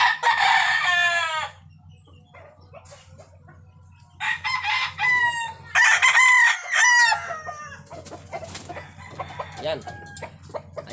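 A fighting gamecock, recovering from treatment for illness, crows in loud drawn-out calls and clucks in short bursts, with gaps of near quiet between.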